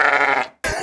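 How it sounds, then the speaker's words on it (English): Sheep bleat in an open field, one long wavering bleat up close followed by a brief gap and the start of another. "Nice open space to take off and land from, but it's full of sheep"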